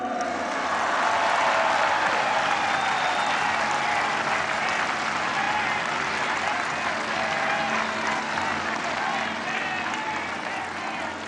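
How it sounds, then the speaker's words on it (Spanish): Large crowd at a presidential political speech in Mexico breaking into sustained, loud applause that holds steady for several seconds before easing slightly, with a few faint cheers mixed in. "Otro aplauso"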